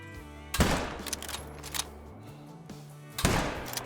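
A rifle shot rings out at a buck in the hunting video game Call of the Wild, with two sharp, loud reports spaced a few seconds apart, each followed by a decaying rumble.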